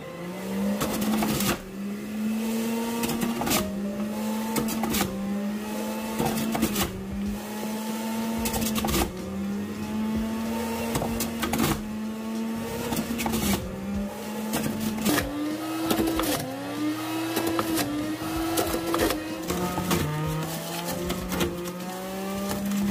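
An electric juicer extracting beetroot juice whirs continuously for over twenty seconds, its motor pitch dipping and recovering repeatedly as pieces are fed through; close and steady, with no talking.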